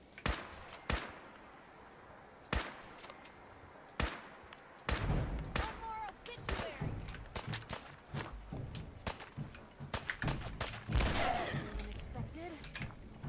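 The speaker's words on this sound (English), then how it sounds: "either I'm getting better with grenades, or they've made them so that the blast radius is a whole lot wider" Grenade blasts in a Fallout game, with a few isolated sharp booms spaced seconds apart, followed by a denser, busier stretch of overlapping bangs and impacts.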